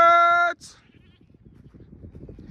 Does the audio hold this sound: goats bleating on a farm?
yes